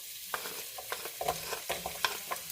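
Chopped onions, garlic, celery and carrots sizzling gently in oil in a soup pot, with a spoon scraping and stirring in irregular bursts; close and fairly quiet, no voices.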